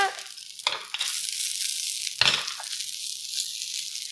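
A broccoli cake patty frying in a pan, a soft steady sizzle with a couple of sharp scraping or pressing sounds from shaping it, close and fairly quiet.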